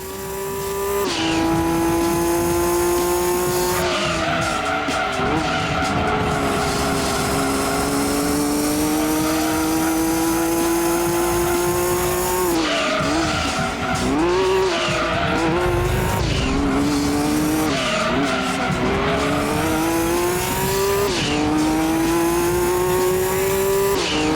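Race cars in Gran Turismo 2 at a Grand Touring Car Trophy event roar loudly and continuously, engines revving and shifting pitch through gear changes, with repeated tire squeals and skids as they corner, no talking.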